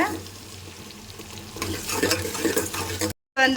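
Onions sautéing in a pan for a taro root curry, a loud close sizzle that swells as they are stirred with clattering scrapes, then cuts briefly to near silence.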